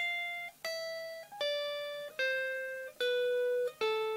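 Six sustained guitar notes picked one after another up the neck, each plucked with a bright attack and left ringing briefly before the next. The notes are clean, steady and evenly spaced.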